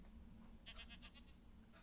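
A goat bleats in the Minecraft video game, a quick run of several wavering, buzzy calls at moderate level over a constant low background hum, with no talk over it.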